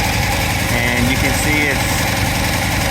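A running engine idles steadily and continuously throughout, with someone talking over it.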